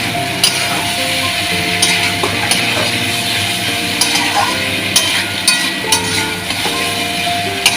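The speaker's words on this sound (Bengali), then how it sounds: "মশলাটা একটু ভাজা হয়ে যাক।" Spices for a prawn curry fry in a pan with a steady sizzle, while a spoon clinks and taps against the metal at irregular intervals.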